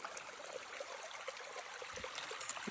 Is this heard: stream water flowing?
yes